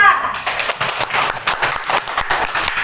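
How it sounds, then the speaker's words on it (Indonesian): A classroom of students claps for a group that has just presented, a brisk burst of many hands close by, crisp and uneven, running for about three seconds. "tepuk tangan untuk kelompok 4"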